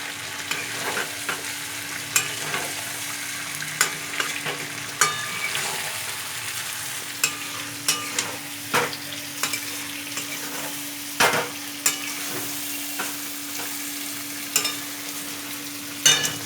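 Fried potatoes go into a hot, sizzling pan of chicken curry and are stirred, with a steady frying hiss beneath repeated scraping and clinking of the spoon against the pan.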